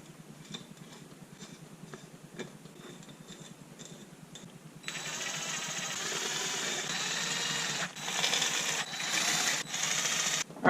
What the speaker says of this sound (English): So now we can just screw these in by hand and then hit them with the impact.